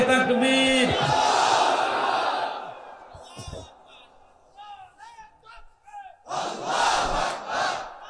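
A large crowd roars a chanted reply to a takbir call, loud and unified for a few seconds, then fades into a lone voice speaking before the crowd swells again.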